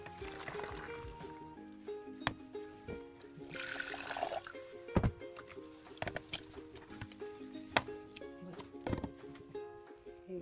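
Orange peels on their second boil in a pot of water give off faint bubbling and gurgling with scattered pops and clinks, quiet and uneven throughout.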